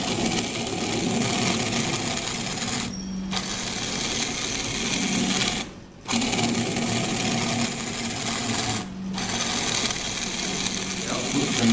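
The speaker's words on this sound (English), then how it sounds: "is driven by a very small 10 watt motor at a fixed input speed of 200 RPM" Small electric motors, a 10 watt drive motor at 200 RPM and a 3 watt ratio motor at 1000 RPM, run a CVT transmission with a steady mechanical whir, briefly cut out three times.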